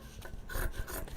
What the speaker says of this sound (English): I'm going to trim down this because we do not need that much interfacing on underneath the top stitching later on